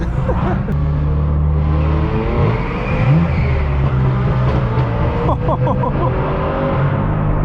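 Straight-piped BMW M4 F82 droning and revving inside a tunnel, a loud low exhaust hum rising and falling, with other traffic around and a voice briefly audible.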